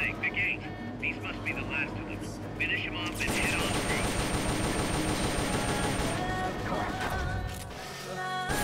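Rapid sustained automatic gunfire from the Metal Gear Solid Peace Walker video game, loud and continuous, with people talking over the shooting.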